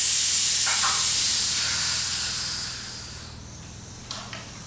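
Steady loud hiss of air inflating a motorcycle tyre to its recommended pressure after a valve core change, fading gradually over a few seconds, then two short sharp puffs near the end.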